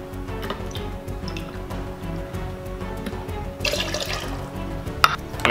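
Orange juice poured into a cocktail glass or shaker, a short close splash and gurgle of liquid heard against a busy background hum.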